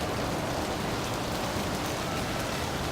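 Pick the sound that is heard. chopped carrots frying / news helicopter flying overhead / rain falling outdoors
rain falling outdoors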